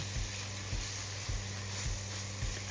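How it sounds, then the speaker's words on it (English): Mushrooms sizzling in a Dutch oven over a medium flame, a steady soft frying hiss with a faint hum, punctuated by regular low taps about every half second, likely from stirring. "the mushrooms are cooking over a medium flame"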